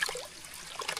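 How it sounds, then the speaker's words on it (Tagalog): Water trickles and splashes softly as freshly harvested black radishes are washed, with small irregular drips and dribbles close by and no talking. "Hugasin ko muna ito."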